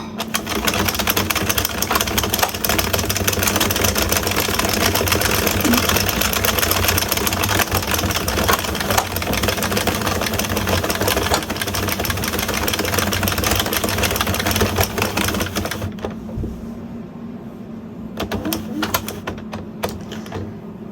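A circular knitting machine knits a baby blanket, giving off a dense, fast, rhythmic mechanical clatter that runs steadily and loud, then eases off and turns into scattered softer clicks near the end.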